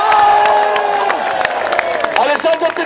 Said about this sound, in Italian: Vorrei un applauso per Giovanni Floris